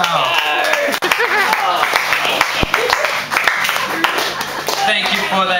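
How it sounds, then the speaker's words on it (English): Audience applause and clapping for the performer Captain Helchild at a live show, a dense, steady burst of many hands lasting throughout, with voices and cheers mixed in. "Another round of applause for Helchild, everyone."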